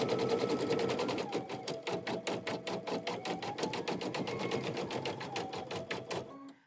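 An embroidery machine stitches the stem of a maple leaf design in a quilting hoop, a fast, even run of sharp mechanical needle clicks that stays close and steady, then stops abruptly near the end.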